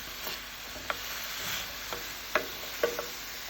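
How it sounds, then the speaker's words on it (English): Chicken and onions fry in a pan while a utensil pushes them around to loosen browned bits from the bottom and sides; a soft sizzle runs underneath, punctuated by several sharp scraping clicks. "So I'm moving this around to try to get the bits off the bottom"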